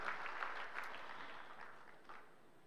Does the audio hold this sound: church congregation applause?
yes